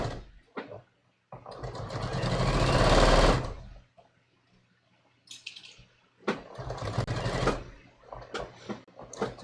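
A sewing machine stitches a tee shirt quilt in two runs, a long steady whir of several seconds, a pause with small clicks, then a second stretch of stitching, close and loud.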